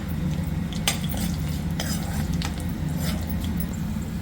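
Tempering spices crackle in hot oil in a wok, with scattered sharp pops and spoon-against-pan clinks over a low, steady hum and soft sizzle, heard close with no talking.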